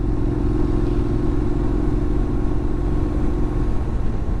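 Motorcycle engine running steadily, a loud, close, continuous low rumble with a faint mechanical clatter and no change in pace.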